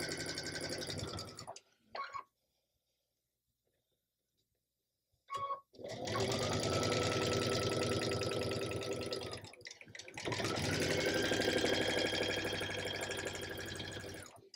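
Home sewing machine stitching a quilt block seam for a Jewel Box sampler block, running in two long steady bursts separated by a pause with a few brief starts, close and fairly loud.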